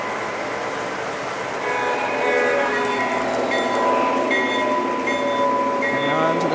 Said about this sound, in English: we have the freight train about to come on to the siding